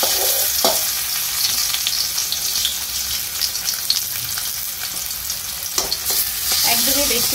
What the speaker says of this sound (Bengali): এবার একটা একটা করে চাল কুমড়ো আমি এর মধ্যে দিয়ে দেব